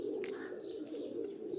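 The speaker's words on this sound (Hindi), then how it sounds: "माशाल्लाह भाई प्यारे कबूतर हैं" Pigeons coo in a steady, low murmuring stream that runs through the whole moment, with a brief chirp near the start and no voices.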